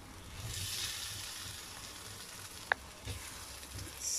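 Brinjals fry in a thick, cooked spicy sauce on a stovetop, giving a faint, steady sizzling hiss. One sharp utensil click cuts in midway, and the sound stays quiet and close without any talk.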